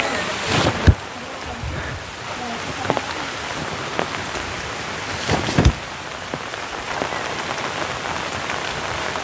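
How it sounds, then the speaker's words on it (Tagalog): Heavy rain pours steadily onto surfaces in a dense continuous hiss, broken by a few sharp louder splats and knocks nearby. "Lumakas ang ulan."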